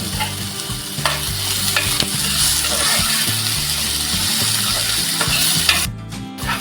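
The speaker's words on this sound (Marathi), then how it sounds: "कांदा अगदी मौची होईपर्यंत आपल्याला परतून घ्यायचं आहे थोडंसं मीठ टाकते त्याच्यामुळे टॉमॅटो लवकर" Onion and tomato sautéed with salt in a pan for makli masala, a steady loud sizzle with repeated stirring scrapes throughout, and a brief clatter near the end.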